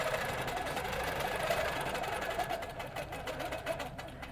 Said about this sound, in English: Turn on my horizontal once again, bring up my thread, and then go ahead and stitch across